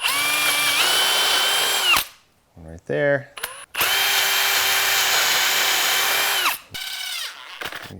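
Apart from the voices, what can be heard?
power drill pre-drilling wood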